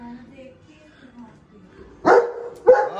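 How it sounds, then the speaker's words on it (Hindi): A Saint Bernard dog at feeding time gives two short, loud barks in quick succession after a stretch of quieter background sound with faint voices. "खाना देख देख के भौंकती है ना"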